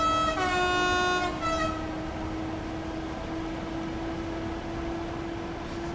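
Flixtrain Vectron electric locomotive in Train Sim World 5 sounds a loud two-tone horn blast for about two seconds, then a steady electric motor whine and rolling hum continue alone.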